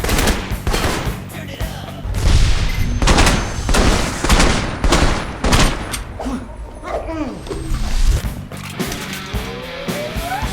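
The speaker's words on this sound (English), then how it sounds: "Full assault rifle magazine" Bursts of rapid assault rifle fire in the video game Alpha Protocol, a full magazine emptied in loud repeated volleys with thuds and other game noise between them.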